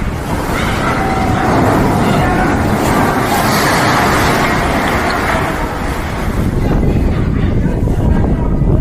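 Strong wind gusts roaring through a city during a severe storm, a steady loud broadband rush with buffeting on the microphone and a constant traffic-like rumble underneath.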